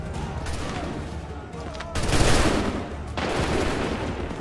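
Musket volleys from soldiers in Assassin's Creed 3, a dense crackling burst of gunfire swelling loudly in the middle and trailing into rolling reports, with voices shouting underneath.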